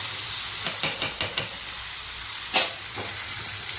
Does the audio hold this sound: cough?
no